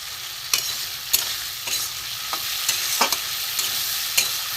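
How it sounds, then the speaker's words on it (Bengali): Spice paste of ground spices mixed in water sizzles loudly in a pan of frying potatoes, with sharp scraping stirs repeating about every half second over the steady hiss. "পেস্ট করা মশলাটা দিয়ে দেবো"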